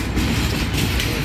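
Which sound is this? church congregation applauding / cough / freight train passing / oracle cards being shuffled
freight train passing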